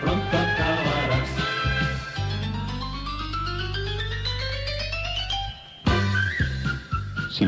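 A melodic whistled tune rising in pitch over steady musical backing from a Spanish radio station intro, loud and continuous, with the music cutting briefly before resuming.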